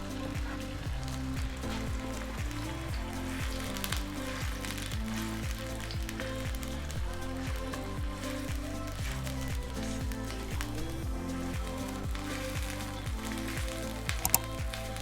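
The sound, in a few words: curry paste frying in a pot for prawn noodle soup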